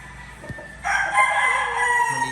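A gamecock rooster crows loud and close, a long strained cock-a-doodle-doo following a brief click, with a second bird faintly audible near the end.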